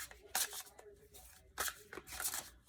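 Overhand shuffling of a tarot deck gives a few soft, papery bursts of cards sliding and slapping together, spaced irregularly and fairly close.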